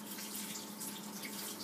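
Tap water running steadily to wet a plastic store bag holding a green bell pepper, a brief close hiss of flowing water with no voices.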